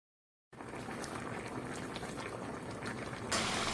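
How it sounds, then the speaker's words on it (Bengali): Bengali vegetarian shukto curry with bitter gourd, its gravy coming to a boil in a pot: a steady soft bubbling and simmering hiss that starts after a brief silence and grows a little louder near the end, with no talk. "ঝোলটাও ফুটতে শুরু করেছে"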